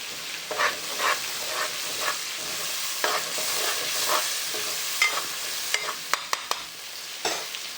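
Spiced curry mixture with coriander and salt stirred in a hot pan, a spoon scraping in repeated strokes over a steady sizzle, with a few sharp clinks near the end.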